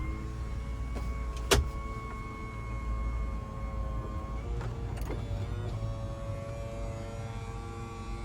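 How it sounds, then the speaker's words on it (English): Power sunroof on a 2021 Toyota Sequoia Limited tilting and then sliding open at one touch, a faint steady electric motor whir inside the cabin with a sharp click near the start and small clunks midway. "And then your power sunroof here. So 1 touch tilting and 1 touch sliding."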